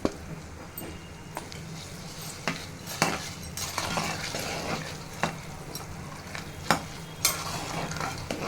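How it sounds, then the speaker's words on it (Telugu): Boondi is stirred through sugar syrup with ghee and orange food colour, giving a soft bubbling sizzle punctuated by repeated sharp clinks and scrapes of a spoon against the pan. "ఇదంతా పాకం దగ్గరికి అయ్యే వరకు ఇలా కలుపుకుంటూ ఉండాలి"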